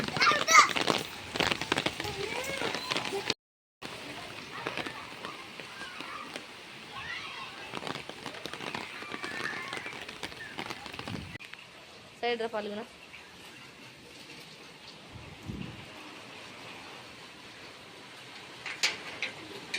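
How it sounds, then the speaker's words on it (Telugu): Light rain falls around a house where water stands pooled on the ground, a steady soft hiss lasting throughout, with children's voices and people talking over it and a brief break partway through. "వర్షం అయితే మళ్ళీ చిన్నగానే స్టార్ట్ అయిపోయింది చూడండి నీళ్ళన్నీ ఎట్లున్నాయో నిలబడిపోయినాయి"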